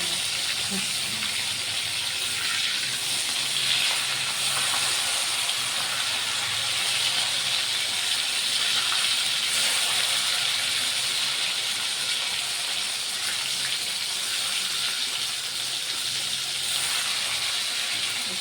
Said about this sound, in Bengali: চামচ দিয়ে নেড়ে ভাজা করে নিচ্ছি বন্ধুরা দেখুন মাছ ভাজা হয়ে আসছে